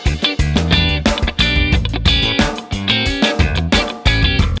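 A funky electric guitar riff driven by 16th-note triplet rhythms, with choppy, tightly muted strums and short punchy chords in a busy, syncopated groove, loud and continuous.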